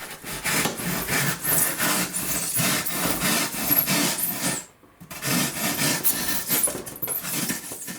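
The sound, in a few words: trimming a thick foam board block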